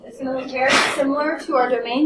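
In a high-school algebra classroom, someone gives a single sharp sneeze, a brief burst partly overlapping a teacher who keeps talking.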